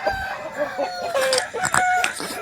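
A large rooster from a flock of young roosters crows loudly and close by, mixed with clucking from other fowl, with no talk.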